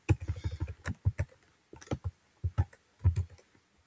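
Someone types a password on a computer keyboard at a Linux terminal, producing close, crisp key clicks in irregular quick bursts with short pauses between runs of keystrokes.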